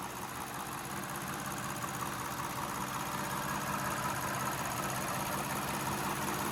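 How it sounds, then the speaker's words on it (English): Steady, smooth idle from a 2007 Lexus GS 350 AWD, heard from the engine compartment; a faint, even hum with no talking. "So as you can tell, nice and smooth running engine."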